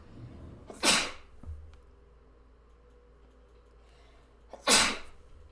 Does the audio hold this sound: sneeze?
yes